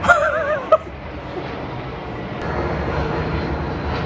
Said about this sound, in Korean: 문득 보니까 비행기가 혹시 이렇게 날아갑니까?